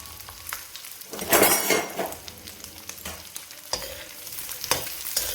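Carrots and garlic roast in a pan for homemade pickle, a strong crackling sizzle broken by bursts of ladle stirring and scraping, fairly close and loud, with no voices.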